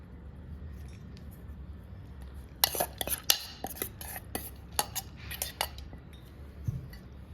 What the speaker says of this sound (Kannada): ಹೆಸರುಬೇಳೆನ ಹಾಕ್ತಾಯಿದ್ದೀನಿ.